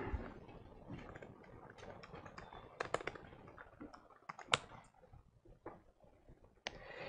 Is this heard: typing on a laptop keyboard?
yes